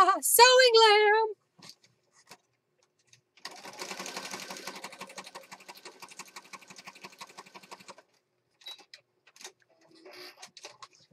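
A sewing machine stitches across a junk journal page in bursts of rapid, even needle clatter, close and fairly loud, with short pauses between runs; a brief voice is heard at the very start.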